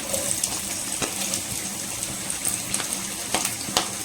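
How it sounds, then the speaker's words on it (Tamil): Onions drop into hot oil in a pan for a non-veg Sunday lunch, setting off a steady, close hiss of frying with a few light clinks and no talk. "இப்போ வந்து பார்த்தீங்கன்னா ஆயில் வந்து ஹீட் ஆகிடுச்சு. வெங்காயம் சேர்த்துக்கலாம்."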